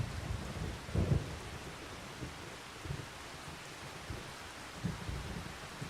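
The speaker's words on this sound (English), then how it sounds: "Not much I can do while it's raining." Steady rain falls in the Farming Simulator 25 video game, with soft low thunder rumbles rolling in every second or so, faint and distant, no talking.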